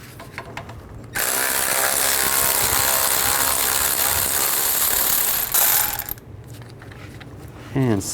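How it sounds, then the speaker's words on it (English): A ratchet with a 21mm socket spins out the caliper bracket bolts on a 1999-2007 Chevy Silverado 2500HD. A long, loud, fast stream of clicking is followed by a short pause and then a few brief final bursts. "Take these two caliper bracket bolts out. Use a 21mm socket."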